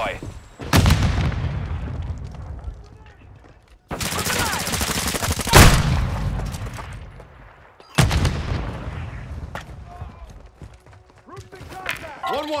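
Gunfire in Call of Duty: Modern Warfare 2 multiplayer comes in three loud, close bursts of rapid automatic fire with heavy booming impacts. Each burst trails off before the next, and voices talk between them.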